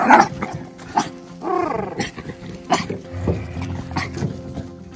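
A lively dog growls and snarls continuously while playing tug beside a wheelbarrow, the rough rumbling growls rising and falling in bursts close to the microphone.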